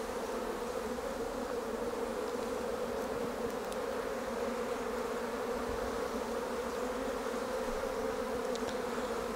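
A honey bee colony drones on a brood frame in late August, a dense continuous buzz holding steady and fairly close throughout with no voices.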